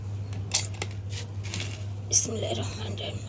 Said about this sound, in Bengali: এখানে আমি প্রেশার কুকারের ডাকনাটা লাগিয়ে বসিয়ে দিব চুলায়